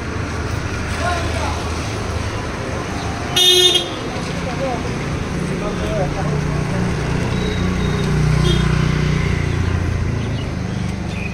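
Busy street traffic in Guwahati: engines rumble steadily with a loud honk near the middle, and a person talks over the constant roar throughout.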